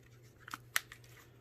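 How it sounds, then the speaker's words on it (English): Clicks from a Motorola Droid slider phone: two or three quiet, sharp mechanical snaps close by, the loudest near the middle, over a faint steady hum. "I always like the clicking of these droids."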